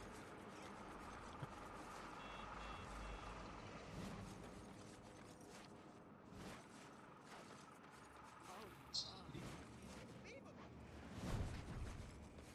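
A truck in the inFamous video game rolling through an alley, faint mechanical clanks and engine rumble with occasional sharp knocks, mixed with game ambience and a voice talking over it.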